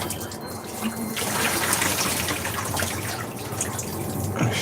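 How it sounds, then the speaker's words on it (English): Boiled potatoes being drained at a home stove, water pouring and splashing steadily and loudly for several seconds as a broad rushing wash, with faint background noise underneath. "We're gonna drain our potatoes."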